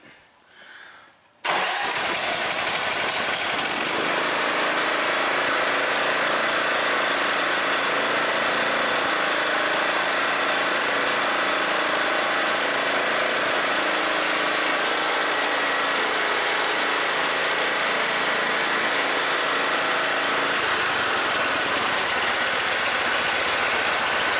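An MTD riding lawn mower engine cranks and catches, then runs steadily at a loud, even idle for over twenty seconds, close by with no talk over it.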